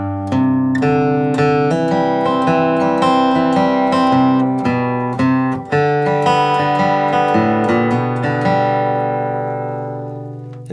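A crosspicked guitar melody of "Banks of the Ohio" in a low register, steady rapid plucked notes ringing together, close and clear with no talking.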